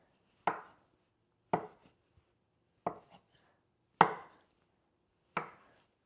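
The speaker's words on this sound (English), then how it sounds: "Next, we're going to cut the tofu." Five sharp knife chops through tofu on a cutting board, spaced about a second apart, each a crisp close thud, alone without talk, while making Korean budae jjigae army stew.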